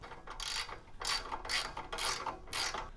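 A ratchet tightens the side bolts of a DRIFTR roof rack on a Toyota Tacoma in five quick bursts of close, crisp clicking separated by short pauses.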